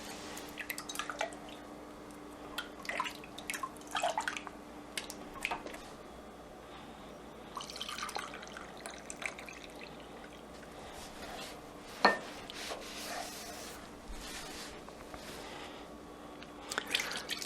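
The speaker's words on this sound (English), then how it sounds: "fill up our large measuring cup, fill these jars up, and then pour the rest into this baking pan" Liquid Jello is poured from a measuring cup into jars and a baking pan. Quiet, irregular drips and splashes come and go, with a few sharper plinks and a soft trickle in between. No one speaks.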